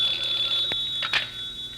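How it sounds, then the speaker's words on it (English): A telephone rings with a short, bright electronic tone that holds steady, with a couple of soft knocks and shuffles underneath. "there's the phone"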